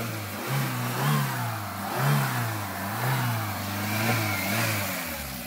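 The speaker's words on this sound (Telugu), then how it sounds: "మీకు ఇంజన్ ఒకసారి స్టార్ట్ చేసి అయితే చూపిస్తా, చూడండి. ఇంజన్ రన్నింగ్లో ఉంది." A 2014 Hyundai i10 petrol car engine runs close by in good condition, a steady idle hum with gentle rhythmic rises in pitch roughly every second, and no voices.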